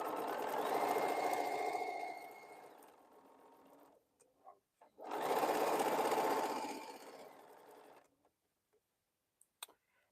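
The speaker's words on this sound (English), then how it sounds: "let's start sewing so I can press this other one open" A sewing machine stitches quilt pieces, running in two steady bursts of a few seconds each with a brief pause between, close and alone, followed by a few faint ticks.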